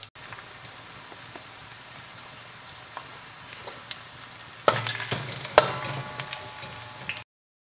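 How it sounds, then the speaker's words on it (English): Ginger stir-frying in a pan for Taiwanese three cup chicken, a steady low sizzle with scattered ticks of the spatula, turning louder and busier with sharp scrapes and clatters in the last few seconds. "you've been stir frying, the sides around the ginger will begin to curl up"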